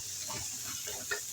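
Celery and chicken stir-frying in a wok over very high heat, with a steady sizzle and a few stirring scrapes running through.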